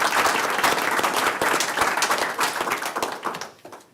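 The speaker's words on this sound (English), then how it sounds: "join me in another round of applause for the improvements that we are seeing" A school board meeting audience breaks into dense, sustained applause, many hands clapping steadily and loudly before the clapping thins and fades toward the end.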